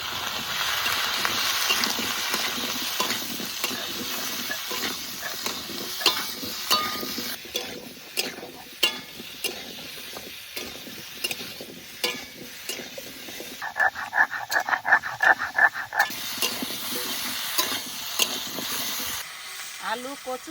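Potatoes, taro and pumpkin with green chilli, salt and turmeric fry in a pan, giving a steady sizzle broken by many irregular stirring scrapes and light metallic clinks over a long, close stretch.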